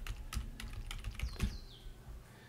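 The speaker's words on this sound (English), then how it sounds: "Let's type that." Typing on a computer keyboard while searching for an app on a Windows PC, a quiet run of irregular key clicks at close range with a few spaced taps and no voices.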